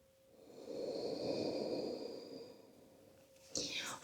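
Deep, slow breathing during a seated yoga practice: a long, airy exhale swells and fades over a couple of seconds, followed by a sharper, quick breath near the end, close and fairly soft.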